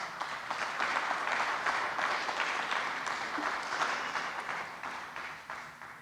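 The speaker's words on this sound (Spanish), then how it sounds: "Denle un aplauso, Señor." Church congregation breaks into sustained applause, a moderately loud, even patter of many hands that holds steady and tapers slightly toward the end.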